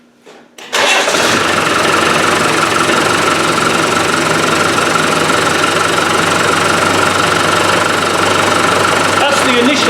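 Land Rover 300Tdi diesel engine with air in the fuel system cranks and catches, then runs loud and steady with a harsh clattering knock, close by.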